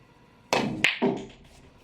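A pool cue strikes the cue ball on a long 9-ball shot, and the balls then knock together. A few sharp, close clacks fall within half a second, each followed by a short ringing decay in a quiet room.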